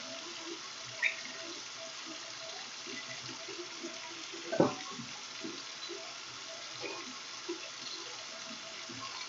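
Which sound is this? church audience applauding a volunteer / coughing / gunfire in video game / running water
running water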